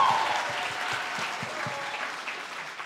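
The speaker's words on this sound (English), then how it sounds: "Let's give a round of applause for the final question" Enthusiastic audience applause at a youth event, a continuous wash of clapping with faint rhythmic thumps underneath, moderately loud and steady, with a voice briefly audible beneath it.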